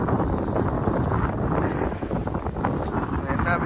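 Seaside wind at Marina Beach in Chennai, a loud, continuous rush of wind buffeting the microphone, with a voice faintly mixed into the roar.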